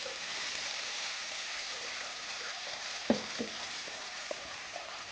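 Onions browned in a pan sizzle softly with ground tomato just added, a steady low frying hiss broken by a few close clinks and taps of a stirring utensil.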